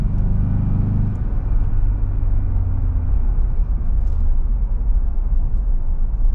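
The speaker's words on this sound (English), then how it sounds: "you actually do get some tire noise, funny enough" Inside a 2026 Ford Bronco Base on the road, a steady low tire roar and cabin rumble holds loud and constant, with no voices.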